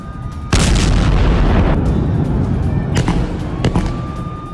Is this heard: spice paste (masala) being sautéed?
no